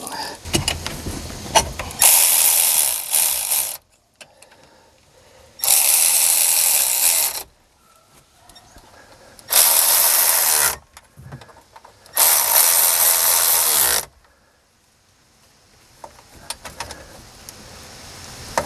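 A ratchet tightens bolts on an amphibious 6x6 vehicle, four loud bursts of rapid clicking separated by pauses, with quieter handling noises in between.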